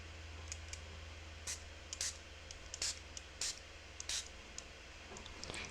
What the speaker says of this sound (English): let's spray those colors